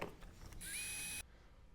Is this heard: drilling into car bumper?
yes